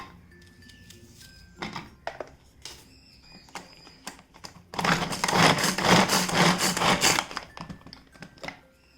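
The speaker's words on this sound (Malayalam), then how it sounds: "ഞാനിത് ഒരു ചോപ്പറിലിട്ടിട്ട് കട്ട് ചെയ്തെടുക്കണം" Capsicum and tomato are chopped in a vegetable chopper: a few scattered clicks and knocks, then a loud, fast, busy run of chopping and whirring for about two seconds before it stops, with no talk.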